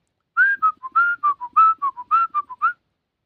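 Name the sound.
person whistling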